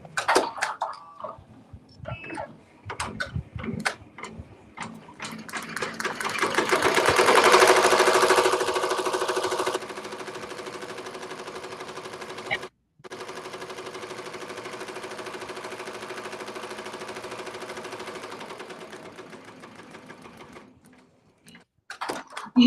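A Ricoma Marquee 2001 embroidery machine stitches an in-the-hoop project with a fast, steady mechanical whir. It surges louder for a few seconds, cuts out briefly, then runs evenly before winding down, with a few clicks at the start.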